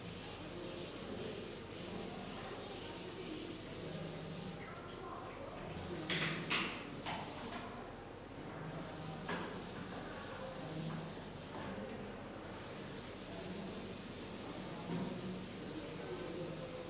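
Rubbing strokes wipe writing off a classroom board during an English grammar lesson, a steady run of soft scrubbing passes, fairly quiet and close, with brief louder bursts and faint background noise.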